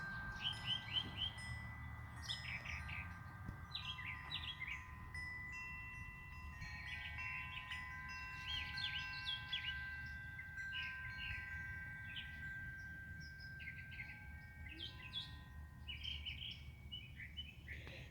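Many small birds chirp and trill continuously, layered and overlapping, over a low steady rumble of distant traffic.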